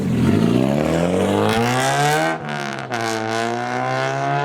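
A Mazda RX-7 with a freshly installed rotary engine, running hard with a loud, buzzy, rising rev that drops briefly twice before climbing again, close and sustained with no talk over it.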